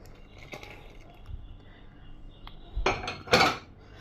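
A spoon stirs flour into boiled milk in a cooking pot for béchamel, with soft scraping that ends in a couple of louder metallic clanks against the pot.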